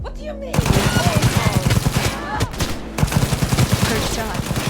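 Video game gunfire from Cyberpunk 2077 on PC comes as loud, close, rapid automatic bursts in two main runs with a brief gap between them, mixed with game sounds and some voices.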